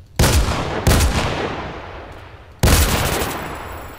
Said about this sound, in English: he survived a point-blank shotgun shot. So I gave him another one.